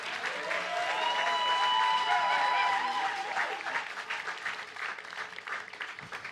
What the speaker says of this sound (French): Il y a des gens qui applaudissent à ce moment-là parfois.